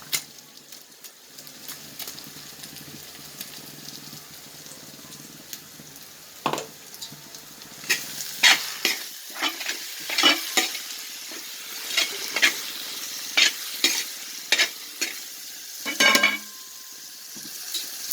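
Ground small-onion paste frying for prawn biryani, a low sizzle under repeated scraping strokes of a spoon stirring in the pan, growing busier and louder in the second half, close and with no voices.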